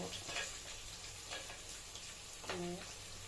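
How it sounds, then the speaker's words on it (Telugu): Whole spices fry in a hot pan for tomato rice, making a soft, continuous sizzle with light stirring scrapes. The sound stays quiet and close, with a brief tonal sound near the end. "మసాలా దినుసులు వేసి వేపుకోవాలి"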